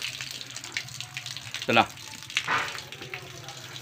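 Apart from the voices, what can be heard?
running water from a tap for bathing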